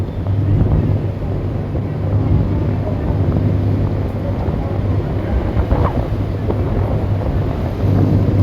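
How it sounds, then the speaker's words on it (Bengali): Super Sonic 7 passenger launch crossing the Tentulia river on the Veduria to Barisal route: steady loud wind buffeting over a low engine rumble and water noise, continuous throughout. "আমরা এখন তেঁতুলিয়া নদী পাড়ি দিব"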